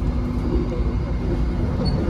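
Inside a KA Malabar premium economy train, a steady low rumble of wheels on rails continues as the carriage rides over track switches, fairly subdued, while a person talks over it.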